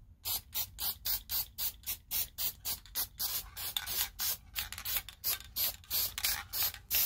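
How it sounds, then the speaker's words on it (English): Repeated short bursts of cheap white aerosol spray paint, hissing in quick rhythmic pulses one after another, close by and fairly quiet, with no talking. "Alright, I got the whole thing sprayed with white."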